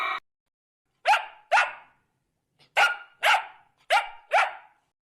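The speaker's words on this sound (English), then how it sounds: "D for dog." Six sharp dog barks, loud and close, coming in pairs with short silences between them and no voices.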